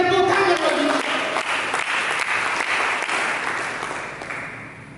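A church congregation breaks into a full round of applause during a sermon, dense and sustained, following a brief spoken phrase and slowly thinning out by the end.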